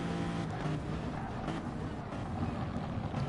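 Gr3 race cars in Gran Turismo at Fuji International Raceway, a dense continuous engine roar with cars drafting and passing close by, loud throughout.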